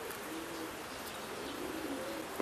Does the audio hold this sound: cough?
no